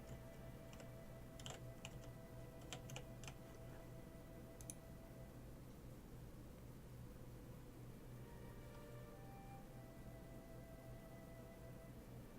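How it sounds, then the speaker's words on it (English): Computer keyboard typing during a space flight simulation game, very faint and sparse: a few scattered key clicks early on, then mostly quiet hum with a steady background tone. "Very faster than I can hit the keys."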